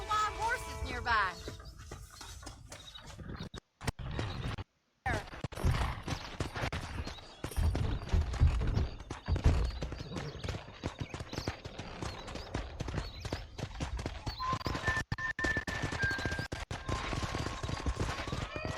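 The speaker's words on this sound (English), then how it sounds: "That ranch hand said there's a pack of wild horses nearby." Horse hooves clip-clopping in the Red Dead Redemption video game, a steady rhythmic trot under game sound effects and music, with brief gaps and occasional sharp cracks, moderately quiet.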